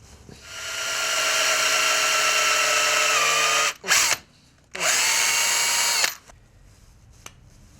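A power drill whirs steadily at high speed drilling into lead fishing weights, stops briefly, spins up again, then cuts off, leaving quiet handling noises.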